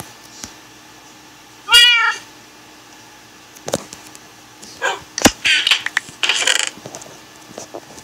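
A single clear cat meow rises and falls in the video game Alex's World, followed by scattered clinks, taps and brief rattling bursts in an otherwise quiet space.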